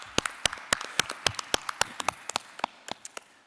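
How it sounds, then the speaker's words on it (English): A meeting audience of the Rockdale County Board of Commissioners claps for a speaker, sharp separate claps scattered across the room rather than a dense roar, tapering off toward the end. "Y'all give her another round of applause."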